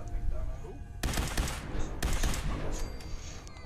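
Rapid laser rifle fire in Fallout 4 survival mode, loud bursts of repeated shots beginning after about a second and continuing through the clip, with a voice talking over the game.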